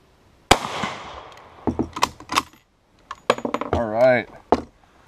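A French Lebel Model 1886/93 rifle chambered in 8x50R Lebel fires once at an outdoor range, a sharp, loud crack with a short decaying tail, followed by a few handling clicks and people talking.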